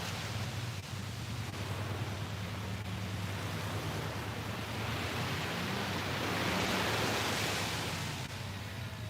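Beach surf rolls in as a steady broadband wash of waves, swelling slightly toward the end, continuous and moderately loud with no voices.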